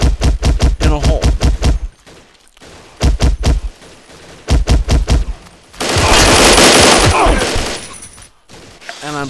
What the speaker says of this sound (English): I'm constantly being shot by noobs